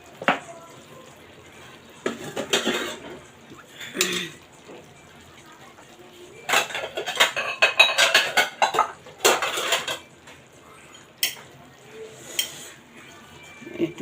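Dishes and steel cutlery clink and scrape in irregular bursts while serving a home-cooked flat bean and pangas fish curry, some clatters loud and close, with a bit of water sound in between.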